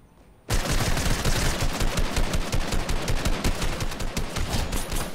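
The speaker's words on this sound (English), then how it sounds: "somebody's firing at me" Rapid automatic gunfire in a Fortnite match, a dense, continuous burst of shots starting abruptly after a brief quiet moment and holding loud and close for several seconds with no talking.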